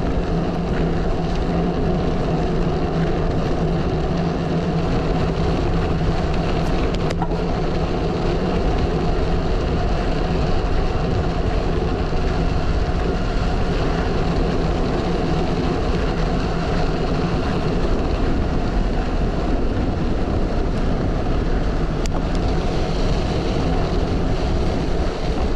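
Strong hurricane wind roaring past a cyclist's microphone on a slight hill, a loud continuous buffeting rumble with no talk.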